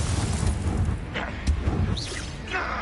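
Confringo spell blasts in Hogwarts Legacy, several loud booming impacts with crackling bursts in quick succession over a dense rumbling battle din.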